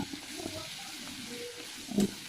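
Spices and turmeric sauté in hot oil for a vegetable khichuri, giving a faint, steady sizzle with a soft clink near the end.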